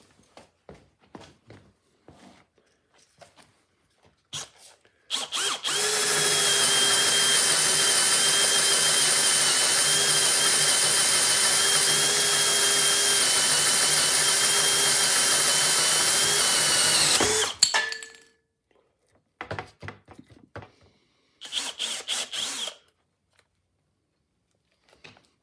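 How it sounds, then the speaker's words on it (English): A Bosch GSB18V-490B12 cordless hammer drill bores a 1 3/8 inch Forstner bit into wood in one steady, loud, high-pitched run of about twelve seconds, followed by a short second burst, with quiet handling noises between. "Next up, I'm going to try an 1 3/8 Forstner bit."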